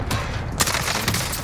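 A short burst of gunfire in Warzone on Rebirth Island: a couple of sharp shots from an OTs 9 submachine gun crack out over game ambience within about a second and a half.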